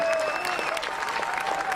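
Crowd applause at a Black Lives Matter protest outside Kansas City City Hall, brisk clapping from a gathered crowd heard fairly close, with a faint tonal whine running underneath.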